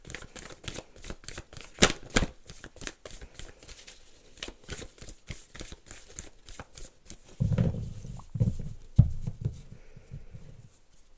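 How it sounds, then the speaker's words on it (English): A deck of tarot cards being shuffled, a rapid run of soft close riffles and flicks, followed by a few duller thumps and rustles as the cards settle. "So we're just going to go ahead and pull some clarifying tarot for that."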